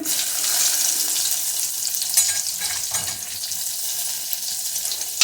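Cumin, mustard seeds, curry leaves, asafoetida and garlic tempering in hot oil for dal, a loud, steady close-up sizzle with crackling pops and a few stirring clicks, no talking.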